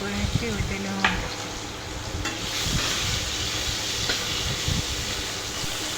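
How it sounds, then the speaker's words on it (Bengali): Boiled potatoes fry in hot oil with a steady sizzle that runs the whole time. Now and then a utensil clinks against the pan. "আলুগুলো ফ্রাই করে নিচ্ছি ওই তেলের মধ্যে।"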